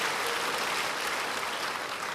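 Church congregation applauding, a steady dense wash of clapping from a large audience, loud and unbroken with no voices over it.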